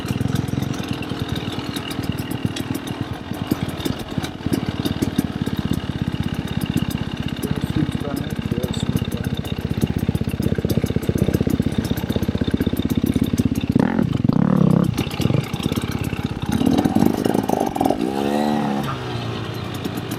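A two-stroke KTM XCW dirt bike engine idles with a steady rapid buzzing putter, close and loud, with some rising revs and wind noise near the end on a trail ride.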